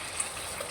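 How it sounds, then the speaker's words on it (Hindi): Water pours steadily into masoor dal, a continuous broadband gushing splash heard close and fairly loud throughout the short stretch, with no voices. "अब इसमें पानी डालें,"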